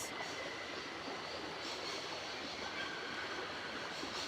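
Train rolling along in the video game Syberia, a steady, continuous rumble with faint metallic clatter and a high squeal, sustained at even loudness throughout.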